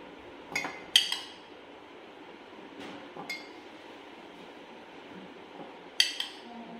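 Jamun fruit being put into a glass jar for homemade jamun cider: a few sharp clinks of fruit and glass at irregular intervals over a quiet background.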